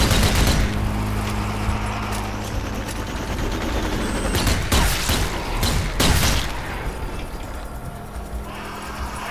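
Dense volleys of gunfire from the zombie shooter Zombie Army 4: Dead War, on hard difficulty, crackle almost without pause over a low rumbling bed, with several sharper, louder bursts in the middle.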